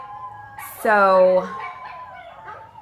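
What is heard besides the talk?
dogs howling outside through open door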